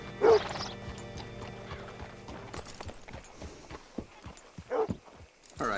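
A horse in Red Dead Redemption 2 gives two sharp whinnies, one near the start and one near the end, with a run of close, uneven hoof clops between them.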